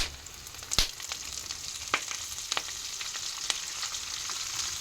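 Moringa leaves sautéing in a hot pan for a stir-fried varuval, a steady close sizzle broken by several sharp crackles and clicks of a spatula against the pan.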